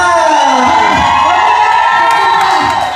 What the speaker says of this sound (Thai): ขอเสียงกรี๊ดดังๆให้กับน้องทั้งสองคนหน่อยจ้า